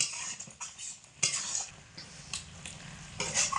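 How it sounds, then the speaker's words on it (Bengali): Cabbage stirred in a pan with ghee and garam masala powder, soft sizzling under repeated scraping strokes of a spoon and occasional metallic clinks, close and with no voices. "ঘি আর গরম মশলা গুঁড়ো দিয়ে ভালো করে নাড়াচাড়া করে বাঁধাকপির মধ্যে মিশিয়ে নেব"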